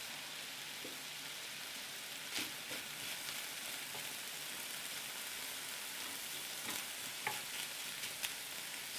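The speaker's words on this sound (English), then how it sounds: "I'm just going to add the halloumi cheese in, just to brown that off." Halloumi cheese browning in a frying pan, a faint, even sizzle with a few scattered pops and crackles throughout, no voices.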